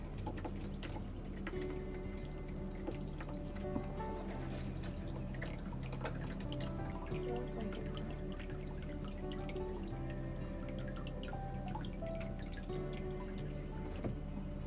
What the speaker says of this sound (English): I could probably just fill up the toilet that far instead of filling up my bucket